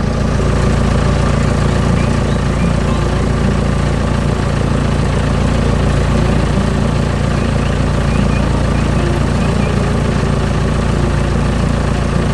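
Green construction machine running a steady low diesel engine drone at a constant loud level, close by and uninterrupted.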